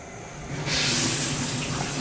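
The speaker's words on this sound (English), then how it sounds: "Always rinse the bay leaves." Tap water runs steadily into a sink as bay leaves are rinsed under it, a close, continuous splashing flow that grows a little stronger partway through.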